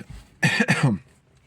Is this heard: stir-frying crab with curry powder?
no